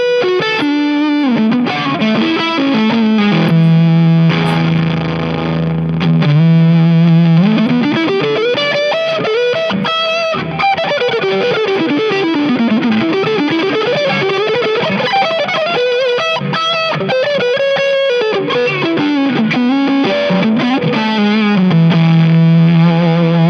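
Heavily distorted electric guitar with Harley Benton TE 62 pickups through a RAT distortion pedal plays a continuous riff with sustained, gritty notes and a steady hum underneath, loud and close, no voices.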